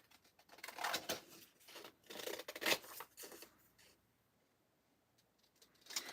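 Scissors snip and rasp through paper while a rectangle is cut out at a craft desk: a close, quiet run of irregular cuts and rubbing bursts with brief pauses between them.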